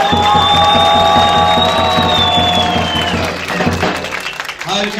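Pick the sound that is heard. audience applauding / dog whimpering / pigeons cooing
audience applauding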